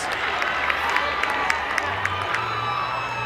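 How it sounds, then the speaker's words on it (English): Football grand final crowd at Sandhurst vs Gisborne in Bendigo, dense sustained cheering and shouting with scattered claps and whoops, loud and continuous with talk mixed in. "The Eagle Hawk crowd will go nuts"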